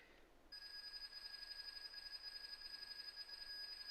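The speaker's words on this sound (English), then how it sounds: "That freaking REM pod's going nuts." A REM pod paranormal detector goes off: a faint hush is suddenly replaced by a continuous high electronic alarm tone with a trilling edge that holds steady to the end, with no talking.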